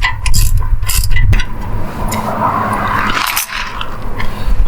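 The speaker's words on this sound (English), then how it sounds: "bolt that holds it in, which I'm just going to start loosening now" A T60 Torx head bolt on Jaguar XKR suspension being loosened, a loud close mechanical grinding and scraping with ratcheting rumble that continues throughout, no speech.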